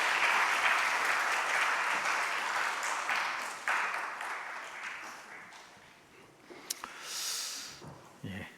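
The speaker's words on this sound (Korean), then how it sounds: "합창단께 다시 한번 박수 부탁드립니다" A church congregation applauds the choir during a Sunday service, a broad wash of clapping that starts full and gradually thins and fades, ending with a few scattered claps and small noises.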